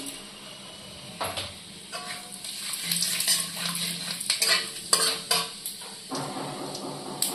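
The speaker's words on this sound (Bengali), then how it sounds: "এবার মাছ ভাজার তেলে আমি দিয়ে দিচ্ছি তেজপাতা আর সাদা জিরে।" Bay leaves and white cumin sizzle in oil left from frying tangra fish, a soft crackle mixed with sharp clinks and scrapes of a spatula against the pan.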